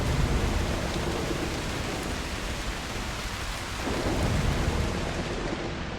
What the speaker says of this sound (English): Oh. Start storm!